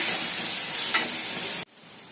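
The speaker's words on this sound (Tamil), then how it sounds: "நல்லா தக்காளி சேர்த்துட்டு நல்லா வதக்கி விடுங்க" Chopped tomatoes sauté in a pan for a chayote kootu, giving a close, steady sizzle with a brief stir or scrape midway before it stops suddenly.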